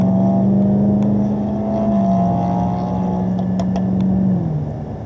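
A race car powers out of a corner at Canadian Tire Motorsport Park, its engine a loud, steady drone that holds a pitch and then steps lower as the gear changes, close by and with no talk.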